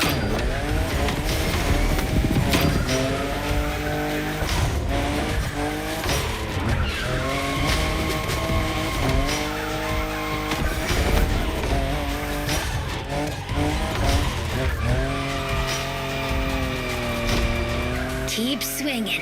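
A fifth-generation Toyota Supra drifting in The Crew Motorfest, engine revving and wavering as tires squeal in long, sustained skids, loud and continuous throughout.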